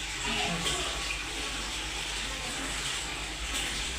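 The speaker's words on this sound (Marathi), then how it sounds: "असं झाडण्याने काढायचं म्हणजे पाणी सगळं नितळतंय खाली" Water drains through a strainer from freshly boiled rice for chicken dum biryani, a soft steady trickling and splashing close by, fairly quiet and continuous.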